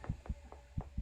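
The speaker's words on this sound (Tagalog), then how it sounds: "Para may naririnig ang heartbeat eh." A video game, Crimson Snow, plays a heartbeat effect: muffled low thumps arrive in pairs, four or five beats within a second, over a steady low hum.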